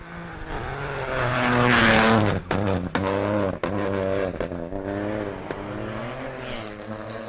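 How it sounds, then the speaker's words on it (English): A Rally 4 Ford Fiesta rally car passes on a special stage, its engine loud and rising with strong revving harmonics, then dropping through gear changes with sharp breaks before settling into a steady drone as it moves on. "Kane's Rally 4 Fiesta."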